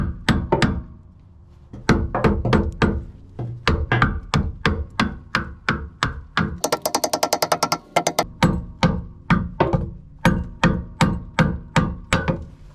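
A trailer part stuck in place takes a long series of sharp hammer taps, steady and close, with a rapid flurry of quick blows in the middle before the regular strikes resume.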